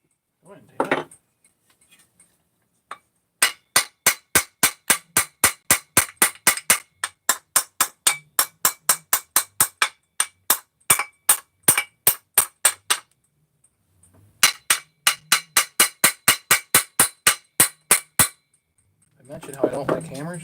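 Repeated sharp metallic hammer blows on a part, struck at a fast, even rhythm in two long runs of strikes with a pause between them, loud and close, with brief talk at the start and end.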